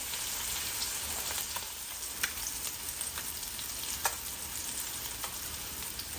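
Sea scallops sizzle steadily in butter in a hot pan, a loud, even frying hiss with occasional small pops and faint utensil ticks, no voices.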